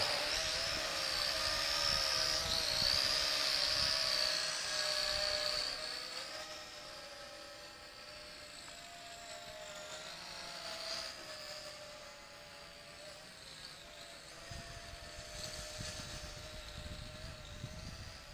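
A Potensic D58 camera drone, a sub-250 g GPS model, flies on a calm day at about 21 meters, giving a steady high-pitched whine of propellers and motors that is louder at first and then settles. No one speaks.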